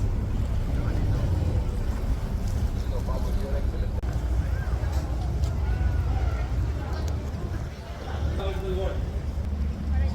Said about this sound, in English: That's the boat that goes to Ia.